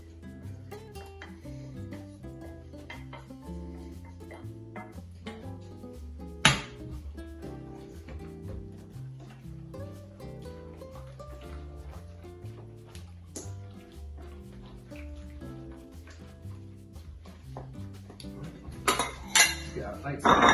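Strained pasta and carbonara sauce are stirred in a pan, with quiet scraping and repeated metallic clinks of a utensil against the pan and a few sharper knocks near the end.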